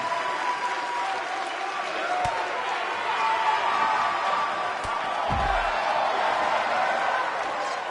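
An arena crowd applauds and cheers at a sold-out wrestling show in the WWE 2K19 video game, a steady, dense wash of clapping with a few sharp thuds near the middle.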